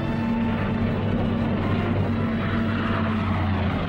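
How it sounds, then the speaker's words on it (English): Propeller cargo planes flying over the hump to China in the 1945 Burma campaign, a steady loud engine drone with a constant humming tone throughout, no talk. "Cargo planes shuttled back and forth over the hump to China."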